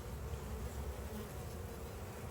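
Honey bees buzz on brood comb inside a hive, a steady, soft, even hum of many bees with no voices.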